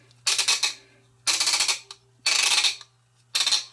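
A Pfaff 463 industrial sewing machine runs in four separate bursts of rapid mechanical clatter, each lasting roughly half a second, with brief pauses between them over a steady low hum.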